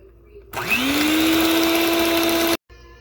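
An electric hand mixer beats an egg into a creamed mixture for coconut kisses, switching on abruptly with a rising whine that settles into a steady, loud motor drone for about two seconds before cutting off.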